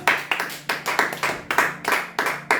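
A church congregation claps together in praise of the Lord, a steady run of sharp, loud handclaps in an even rhythm, with no voices over it.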